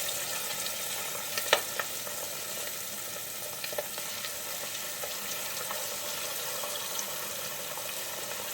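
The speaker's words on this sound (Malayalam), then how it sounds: "ഇനി ബാക്കി പീസും കൂടി നമുക്ക് ഇതേപോലെ ഇട്ടൊന്ന് വറുത്തെടുക്കാം" Chicken pieces fry in hot oil for a biryani with a steady, even sizzle and a soft crackle. A few sharp pops and clicks break through at scattered moments, and there is no talking.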